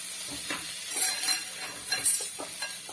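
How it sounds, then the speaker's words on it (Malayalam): Chopped tomatoes frying in a pan for a prawn (chemmeen) fry, giving a steady sizzle with soft stirring scrapes and occasional light clinks of a spoon against the pan. "അരിഞ്ഞു വെച്ചേക്കുന്ന തക്കാളിയും കൂടി ഇതിലിട്ട് കൊടുക്കാം"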